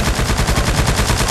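Rapid gunfire from a car during a Roblox shooting game, a fast rhythmic burst of loud repeated shots packed tightly together and heard up close.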